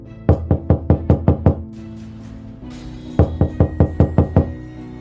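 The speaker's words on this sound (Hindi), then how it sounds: "देख जरा दरवाजे पे सीताराम, सेठ आया है लगता है।" Sharp, close knocking on a door comes in two quick bursts of about seven even raps each, separated by a short pause.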